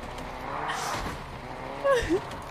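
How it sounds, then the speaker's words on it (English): A car drives in the Fortnite video game, its engine droning steadily, with a pair of brief squealing, skid-like tones near the end. "there's a car behind us"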